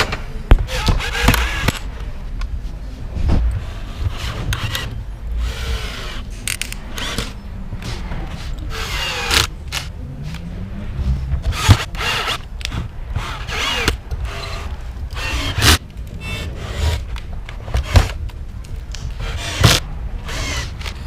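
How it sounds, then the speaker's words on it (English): A drill press runs in repeated bursts with clicks and clatter between them, close by and fairly loud, as holes are bored one after another for a car amplifier rack. "You can make holes with these with the awl and then go drill them out with the drill press."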